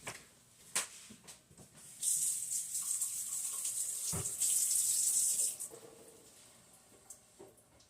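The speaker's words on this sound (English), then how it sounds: "Just gotta go rinse my hands off." Kitchen tap water runs into a sink while hands are rinsed. A few clinks lead into a steady, close hissing stream that stops abruptly, then faint clatter follows. No one speaks.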